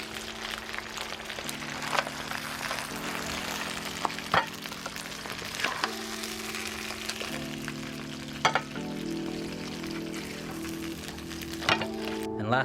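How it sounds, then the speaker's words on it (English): Crab stir-frying with ginger in a pan for a Cambodian dish, a steady close sizzle and occasional clatter running under continuous background music, with no speech. "that's how you make a ginger stir-fried crab recipe."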